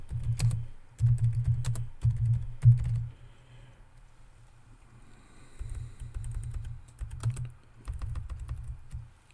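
Bursts of computer-keyboard typing at close range, clusters of quick keystrokes separated by a quiet pause in the middle, then resuming in uneven runs with no speech.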